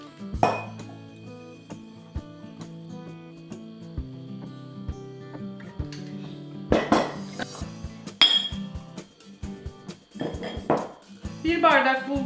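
Bulgur is measured with a glass for fellah köftesi in a kitchen, with repeated clinks of glass and dishes and rattling grains, close and fairly loud, under soft background tones.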